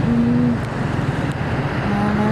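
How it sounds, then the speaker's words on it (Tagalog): Road traffic with cars passing, a loud, steady roar of vehicles rushing by close, with engine hum and tonal whine, no talking. "traffic."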